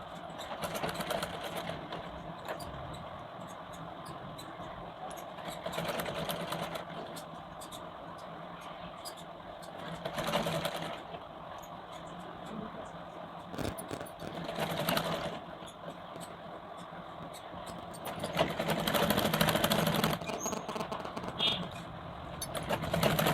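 A sewing machine stitches piping onto the curved lower edge of a blouse sleeve, a rapid mechanical whirring in repeated bursts with pauses between, while a person talks throughout.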